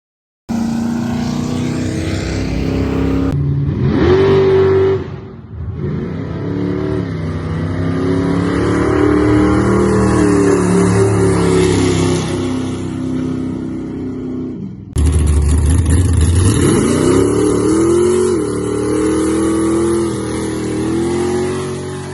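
Turbocharged Plymouth Savoy drag car launching and accelerating down the strip, a loud sustained engine roar rising through gear changes, close and continuous with no talk.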